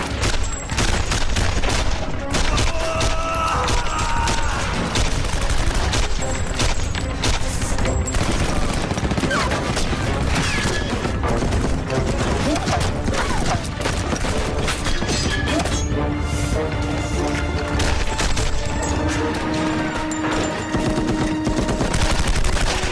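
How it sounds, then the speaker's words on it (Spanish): A dense, continuous exchange of gunfire, including heavy .50 caliber machine gun bursts, loud and sustained throughout with overlapping shots and no pauses. "Los ataques aéreos, sin embargo, no lograron detener el intercambio de disparos."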